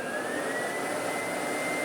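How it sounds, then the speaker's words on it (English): A Vorwerk VK120 upright vacuum cleaner runs steadily and loud at close range, a constant motor whine with a faint tone rising slightly in pitch over a broad airflow roar, no speech. "The vacuum part works fine."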